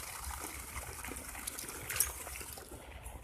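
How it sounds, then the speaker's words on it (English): Pond fountain running in open water near a fishing spot, a steady faint gushing and trickling wash with no pauses. "My fountain there in the water just came on."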